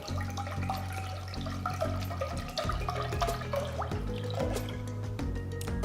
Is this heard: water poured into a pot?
yes